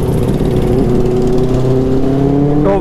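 Benelli 600i superbike engine revving hard and steady during a rear tyre burnout, loud and close, with a rising rev at the end.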